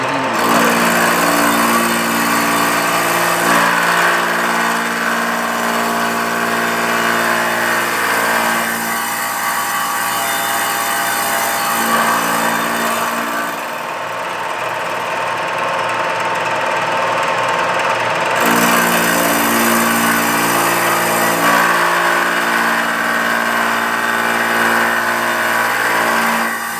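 A cutter machines a cast small block Chevy cylinder head for a 400 engine build, producing a loud, continuous whine with steady pitched tones that pauses briefly midway and then resumes at full volume.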